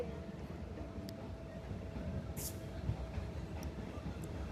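Inside a moving train on a trip to Dandeli, a faint continuous low rumble of the carriage runs on, with occasional soft knocks and light background noise.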